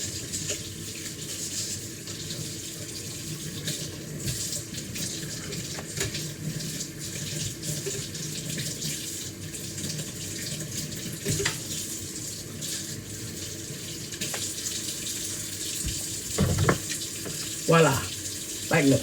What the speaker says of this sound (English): I'm using warm water.